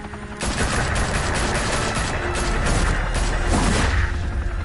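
Sustained police gunfire in Batman: The Telltale Series, a loud, continuous fusillade of overlapping shots and rapid bursts filling the whole stretch close up, with no voices.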